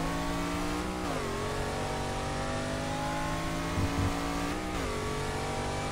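DeTomaso Pantera race car engine in GT Legends at Spa-Francorchamps, a loud, steady high-revving drone throughout, dipping briefly at two gear changes before climbing again.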